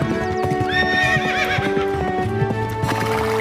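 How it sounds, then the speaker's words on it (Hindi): Arabian horse's hooves clip-clop in a steady rhythm close by, with a horse's whinny rising over the hoofbeats; no talking. "दूसरे दिन सुबह ही शुक्ला जी एक शानदार अरबी घोड़ा किराए पर ले आए।"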